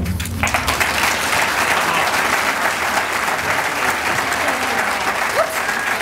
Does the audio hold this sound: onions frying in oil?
no